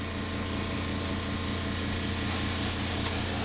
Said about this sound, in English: first time spraying with his new gun